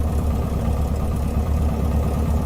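An aircraft engine runs steadily inside a VR flight simulator game, a low, even engine drone with a rumbling pulse that holds constant and loud throughout, with no voices over it.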